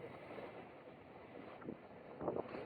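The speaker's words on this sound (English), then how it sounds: "The wind's gusting up pretty good" Steady wind on a lake rushes and buffets the microphone from a boat, swelling into a stronger gust near the end, with water lapping faintly underneath.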